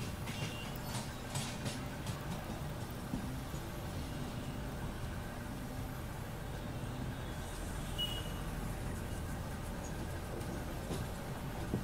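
Two Mumbai suburban locals cross each other, a 15-car fast train and a Churchgate–Borivali slow train, heard as a steady low rumble and rattle of rolling stock with faint clatter. The sound is distant and quiet throughout.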